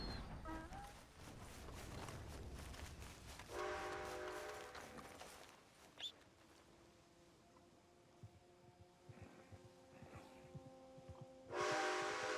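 Train in the Red Dead Online video game passing near Flatneck Station, its horn blowing in long sustained blasts over a clattering rumble of wheels and cars, fairly quiet overall, with a final horn blast at the end.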